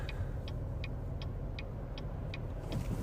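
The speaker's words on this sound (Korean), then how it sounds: "지금 제 거는 저 조수석 에어백에서 지금 계속 소리가 나요" A Chevrolet Traverse cabin with faint, regular ticking coming from the passenger airbag area, about three clicks per second, under steady road and engine rumble.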